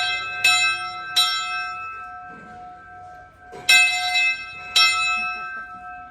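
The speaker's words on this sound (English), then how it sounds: "And then ring the bell Ward Kimball Ave. The rope? Yep. Pull the rope there." A locomotive bell at a locomotive museum, rung by pulling its rope, clangs loudly four times in two pairs, each strike ringing out with a long metallic sustain, close by and without talk.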